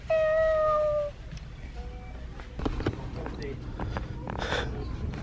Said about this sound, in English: Look, it's gonna meow.